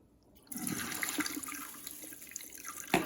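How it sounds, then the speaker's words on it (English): Tap water gushes onto lentils being rinsed in a kitchen, starting abruptly after a brief quiet and then running steadily with splashing and trickling, close and fairly loud, ending with a sharp knock. "the first thing you want to do is wash your lentils and drain them"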